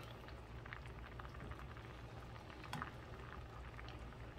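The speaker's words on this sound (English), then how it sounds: "just try to braise the pork so the top won't get uh, uh, dried" A braising pot of pork pata simmers with a soft, steady bubbling and faint popping, quiet and continuous with no voices.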